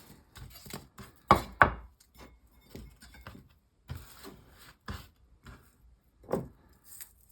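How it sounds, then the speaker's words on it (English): Knife chopping onion finely on a board in a home kitchen, a quiet series of sharp, irregular taps spread over several seconds with brief gaps between strokes. "So a bit of finely chopped onion."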